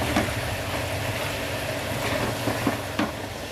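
Potato and cauliflower curry with garam masala and coriander being stirred in a pan, a steady sizzle with soft scraping strokes at a moderate, close level, no talking.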